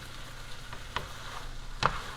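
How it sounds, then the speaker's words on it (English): Two beaten eggs hit a hot pan while pork fried rice is being made, giving a soft, steady sizzle with a few sharper crackles and pops, close by and without any talk. "we have 2 eggs here that we've just mixed up, Sort of, yeah. and we just put it right in the pan"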